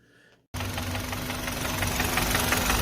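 A used car engine with heavy oil leakage around the cylinder head starts after a brief quiet moment, then runs at a steady idle with a rough, knocking mechanical rhythm, close and loud.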